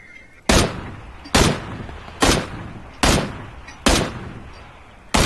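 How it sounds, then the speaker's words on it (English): Gunfire in the video game PUBG: six loud, sharp shots spaced evenly about a second apart, each with a short decaying tail. "Why are you shooting?"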